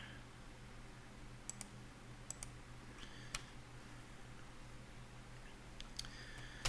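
Faint mouse clicks while browsing a Pathfinder spell reference website: a few sharp, isolated ticks at irregular intervals over a low steady hum, with no talking.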